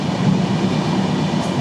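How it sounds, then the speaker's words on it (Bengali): A Sundarban Express train speeds fast through Padma railway station, a steady loud rumble of wheels and carriage noise filling the brief moment with no voices. "আর ট্রেনটা অনেক দ্রুত গতিতে যাচ্ছে, আমরা প্রচণ্ড দ্রুত।"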